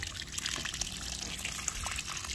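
Water gushes and splashes steadily at close range onto bitter gourd seeds in a DIY net, a continuous liquid rush with no voices.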